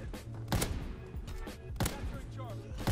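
Heavy PTRS-41 anti-tank sniper rifle shots fired in a video game on the Shipment map, two loud booming reports about a second apart under the game's background noise and voice chatter.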